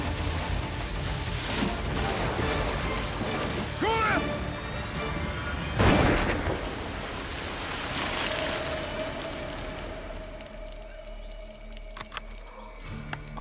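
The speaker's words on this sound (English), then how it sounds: "Good shot, Pee-wee." A single sharp gunshot cracks out midway through a hunt from a boat in a Louisiana bayou, loud and close amid water sloshing and hull noise, with voices around it.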